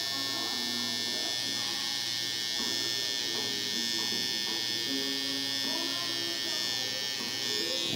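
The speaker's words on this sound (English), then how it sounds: "Come back in, you're just gonna flip the clipper." An electric hair clipper buzzes steadily and close while trimming a mustache, a constant high whine with shifting tone as it moves over the hair.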